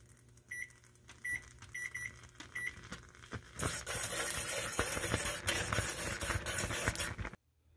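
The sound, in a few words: pectin and water boiling at a full rolling boil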